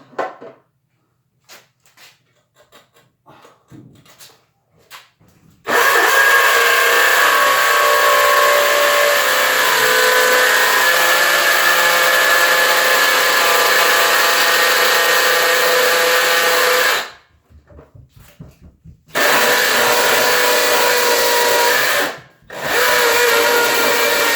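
A drill bores pocket holes through wood clamped in a Kreg pocket hole jig, with two long, loud, steady whirring bursts following a few quiet taps and handling sounds.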